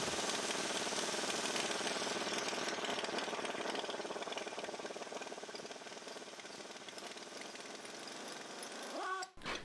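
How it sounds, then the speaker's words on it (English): An impact wrench works on the front axle of a worn, nearly 70-year-old Jeep CJ5, giving a steady rapid hammering buzz at moderate loudness. It runs for about nine seconds before cutting off. "We'll just use the impact, then you don't need to hold it this tight."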